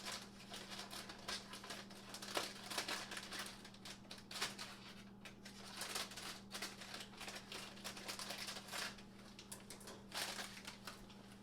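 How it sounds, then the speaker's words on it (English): A plastic bag of pre-washed watercress is opened, giving faint, irregular crinkling and rustling bursts close by, with no talking. "I'm going to start out by opening this bag of watercress."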